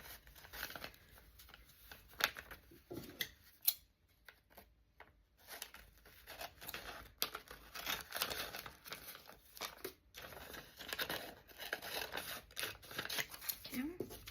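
Scissors snip through paper up close, making quiet repeated crinkling cuts and rustles with brief pauses as sheets are handled.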